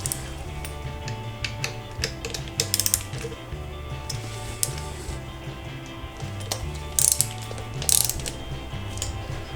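Ratchet wrench clicking steadily as it tightens the cover bolts on a 1991-2003 Harley-Davidson Sportster, with a dense run of close mechanical ratcheting and a few sharper metallic clanks.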